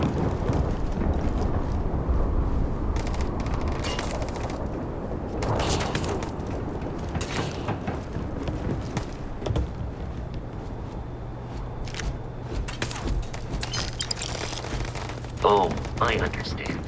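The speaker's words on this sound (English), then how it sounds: "there's still people trying to shoot me" Gunfire in the space game Starfield, with repeated shots and bursts crackling over a steady rumble of engine and ambient noise, continuous and moderately loud, with a louder burst near the end.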